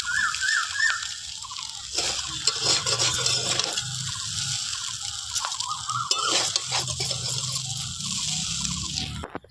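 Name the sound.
chow mein being stirred gently in a small wok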